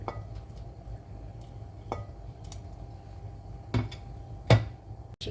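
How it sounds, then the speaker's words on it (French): A spoon stirs a pot of simmering chorba soup during Ramadan cooking. Several sharp metallic clinks against the pot stand out from a low steady background hum, with no talking. "je laisse tranquille cuire et je remue de temps en temps jusqu'à que ça cuit"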